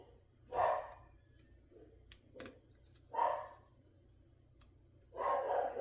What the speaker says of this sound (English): Sorry if you can hear my dog.